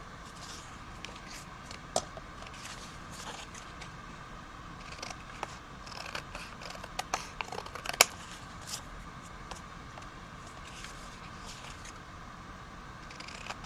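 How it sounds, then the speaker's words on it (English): Scissors cutting down printed postcards for journaling, a soft crisp snipping and paper rustling with small clicks, close and quiet, with a cluster of sharper snips midway and no talking. "I'm going to cut these down."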